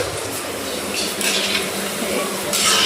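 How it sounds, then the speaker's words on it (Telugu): Vegetable Manchurian balls deep-fry in hot oil over a medium flame, a steady soft bubbling sizzle with faint brighter crackles rising near the end. "అన్నీ మీడియం ఫ్లేమ్లో గోల్డెన్ కలర్ వచ్చేదాకా వేగనివ్వాలి."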